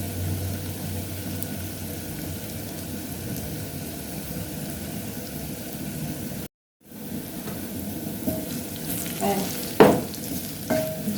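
Onions and minced meat sizzling and frying in a pan while being stirred, a steady dense crackle with a brief cut partway and scraping stir noises near the end.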